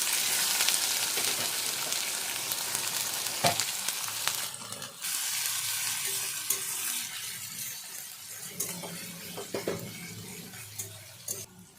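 Chopped onion sizzles and crackles steadily in hot oil with cumin seeds and bay leaves, a broad continuous hiss with a few sharp stirring clanks, fairly close and unaccompanied by talk.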